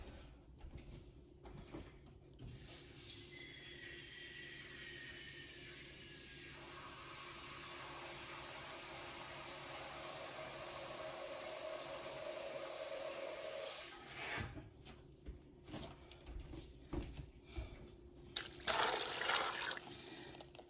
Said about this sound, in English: we're going to fill this with water up until to cover our beans